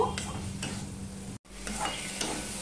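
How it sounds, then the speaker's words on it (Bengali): Moong dal frying with spices in a pan for a vegetarian ridge gourd dish gives a steady close sizzle with occasional stirring scrapes, briefly cut by a moment of silence before the frying resumes. "আমি এই মশলার সাথে মুগ ডালটা একটুখানি কষিয়ে ভেজে নেব"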